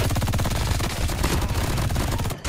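An MG42 machine gun fires in Call of Duty Mobile as a very fast, continuous burst of rattling shots, loud and close, ending abruptly just before the clip finishes.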